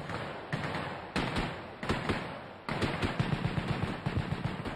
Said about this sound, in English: This SEAL squad is practicing a coordinated leapfrog movement using live ammunition.